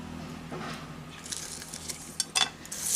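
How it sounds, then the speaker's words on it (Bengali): Whole cardamom, cloves, cinnamon, star anise, cumin seeds and bay leaves fry briefly in hot oil, giving a soft crackle with a few sharp pops and light clinks of a utensil against the pan near the end. "ফোড়নটাকে কয়েক সেকেন্ড ভেজে নেব"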